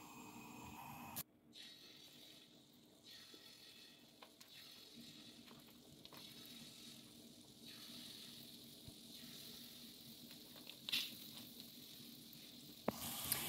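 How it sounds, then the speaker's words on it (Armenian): Batter fritters (oladyi) frying in a pan, giving a soft, steady sizzle that runs the whole time with a few faint clicks and knocks of utensils; no one speaks. "2 կողմից տապակելու ենք, ոսկեգույն"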